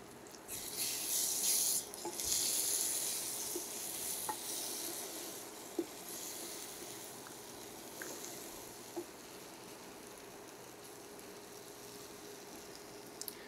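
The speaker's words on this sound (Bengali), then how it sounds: "এখানে আমি ডিম দিয়ে দিচ্ছি, 2টা ডিম দিয়ে আজকে রান্না করব।" Two eggs hit a pan of ingredients already fried for several minutes and are stirred, producing a soft, quiet sizzle with occasional small clicks and taps of the utensil against the pan.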